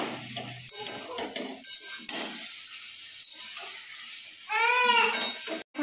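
Chicken cooking in a home kitchen pan, with a soft steady sizzle under scraping stirs and utensil clinks, and voices talking nearby.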